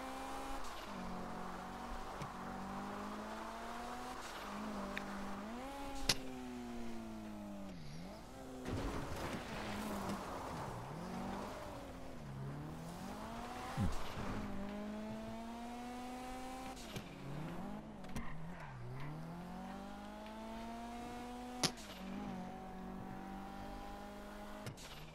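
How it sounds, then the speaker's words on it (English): Engine revving and shifting in GTA 5 as a car drives hard, with rising and falling pitch sweeps and brief tire squeals over a steady, fairly loud mix without speech. "My car doesn't want to spin out."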